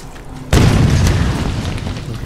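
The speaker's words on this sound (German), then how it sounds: "Granate." A grenade detonates in the video game Tomb Raider, a sudden loud, deep boom that cuts in after a quiet moment and rumbles on, slowly fading, with no talk over it.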